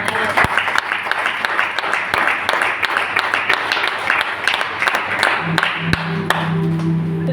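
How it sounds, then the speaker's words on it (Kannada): A church congregation at an all-night prayer meeting claps loudly in a steady, continuous burst of applause that fills the room, with a voice talking over it. "ಚಪ್ಪಾಳೆ ಹೊಡೆದ ಜೋರಾಗಿ"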